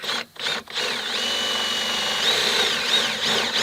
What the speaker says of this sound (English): I'm going to flip the door over and drill from the other side.